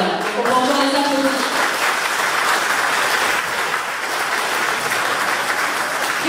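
Audience applause at a school show, steady clapping that holds at a fairly loud, even level, with a brief voice or tone near the start.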